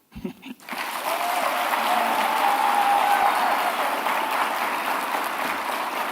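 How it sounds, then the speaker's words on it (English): An audience at a conference closing ceremony breaks into applause for the co-chairs, the clapping swelling quickly after a brief voice and holding as a steady, dense wash of hands for several seconds. "If you've not clapped for those guys, please do it now."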